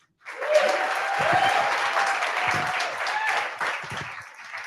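A crowd applauds steadily for several seconds, a dense wash of clapping that starts abruptly and stays loud throughout.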